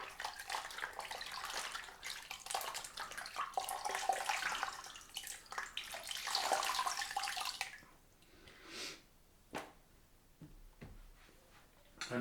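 A face cloth is rinsed under a running tap during a straight-razor wet shave with a Dovo shavette, giving a steady close splashing stream that stops abruptly, followed by a few faint drips and clinks.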